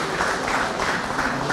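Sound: applause at a general assembly

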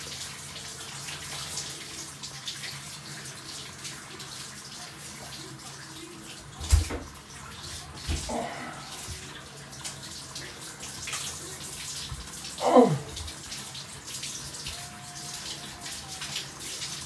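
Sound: hot water running from a tap

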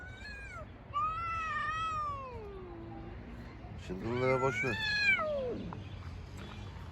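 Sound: cat meowing

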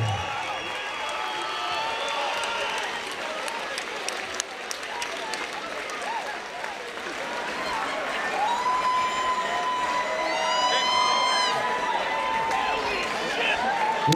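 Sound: crowd applauding and cheering boxers at charity match

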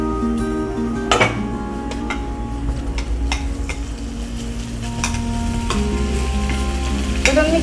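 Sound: beef added and stirred into sizzling vindaloo masala

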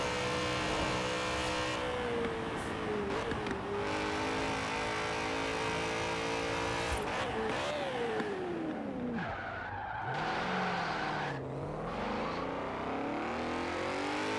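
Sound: car driving through corners in the video game Forza Horizon 4

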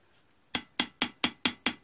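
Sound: hammer striking metal sheet

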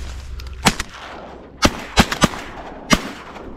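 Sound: shotgun shots at ducks while duck hunting

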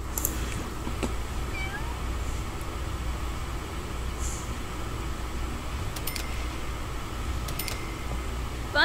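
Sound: kitten meowing in The Sims 4 video game

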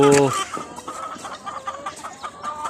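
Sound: laying hens clucking

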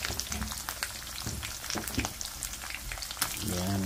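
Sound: frying bangus, dried milkfish, in a pan

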